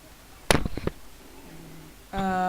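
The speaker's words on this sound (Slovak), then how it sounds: "Poistíme to granátikom." A grenade blast in the Call of Duty Ghosts video game, a sharp loud boom with a short rattling tail, followed by quieter game sounds and a rising tonal hum; someone speaks nearby.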